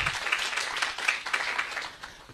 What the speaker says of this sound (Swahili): Jipigie makofi kwa kuombea Tanzania